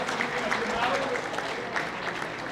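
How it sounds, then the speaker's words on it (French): Steady audience applause fills the hall at a Haitian foundation inauguration ceremony, a continuous dense patter with voices mixed in beneath. "Pierre-Richard Bouni, je vous demande de l'applaudir."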